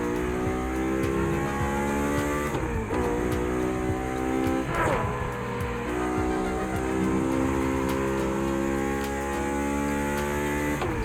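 A Mazda RX-7 in The Crew Motorfest on PS5, its engine droning and revving steadily with shifting pitch, with brief tire squeals along the way and no voices over it.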